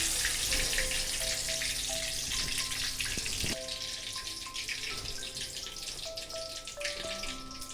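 Tomato pakoras deep-fry in a pan of oil, giving a continuous loud bubbling sizzle that eases slightly partway through, with faint background hum and no voices.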